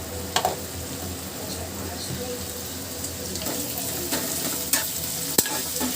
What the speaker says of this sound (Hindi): अब मैंने इसमें प्याज डाल दिया है।